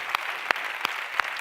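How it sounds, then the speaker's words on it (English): Four sharp, evenly spaced claps ring out over a soft crowd murmur at a talk, close and distinct, rather than a full burst of audience applause. "Give him a big applause."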